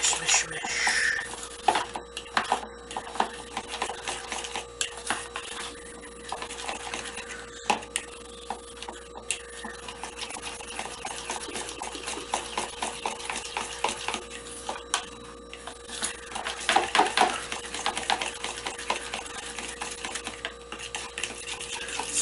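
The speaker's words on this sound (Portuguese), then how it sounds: "Mexe bastante para dissolver a tapioca" Tapioca being stirred steadily in a kitchen to dissolve it, a continuous scraping and swishing that runs throughout with small clinks of utensil against the container, close and moderately loud.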